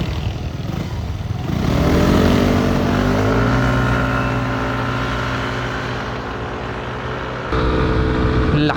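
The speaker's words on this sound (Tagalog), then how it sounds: "Lakas talaga umarangkada ng Aerox, oh." A Yamaha Aerox scooter accelerating hard in a stock 150-160cc speed run, the engine climbing in a rising, sustained drone that holds strong and close before dropping off near the end, with wind noise throughout.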